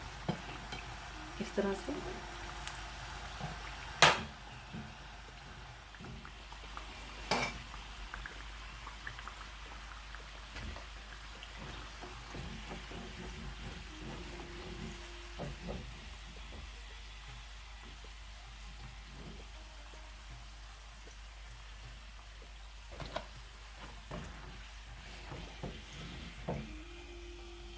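Chicken cheesy pizza pockets frying in hot oil, a steady soft crackle and sizzle running throughout with occasional sharper pops and clinks, while someone briefly speaks over it.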